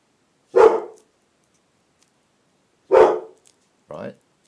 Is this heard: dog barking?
yes